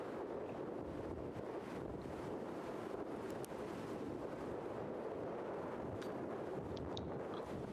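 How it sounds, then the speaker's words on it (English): A gust of wind sweeps across an outdoor disc golf course during a tournament, a steady roaring buffet of wind noise on the microphone throughout, with no voices. "Really unfortunate gust picked up right when he putted"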